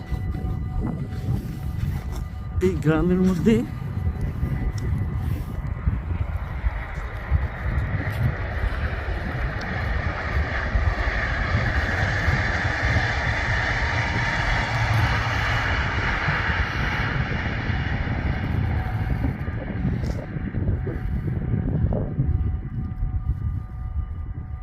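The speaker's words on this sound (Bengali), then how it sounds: "আর এদিক থেকে এখন ট্রেনটা আসবে" A train's heavy rumble swells into a loud, steady roar as it approaches, then eases off; a voice speaks briefly near the start.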